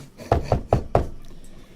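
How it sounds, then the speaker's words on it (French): Four sharp knocks on a wooden door in a quick, even series, close and loud, followed by quiet. "on a frappé à sa porte"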